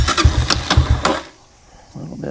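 Dirt bike engine idling while its carburetor idle is adjusted, a rapid uneven putter up close that cuts out partway and is followed by near silence.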